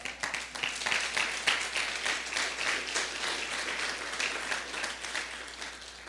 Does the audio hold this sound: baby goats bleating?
no